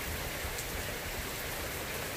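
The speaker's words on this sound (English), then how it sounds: "It's raining. You can barely pick it up" Steady rain falls outdoors onto grass and flowers, a continuous soft hiss of drops with no breaks, even and fairly quiet throughout.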